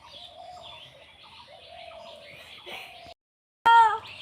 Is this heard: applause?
no